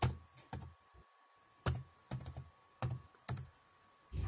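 A computer keyboard clacks as a bootrec command is typed on a Windows PC, in short bursts of close keystrokes separated by brief pauses, with no one talking.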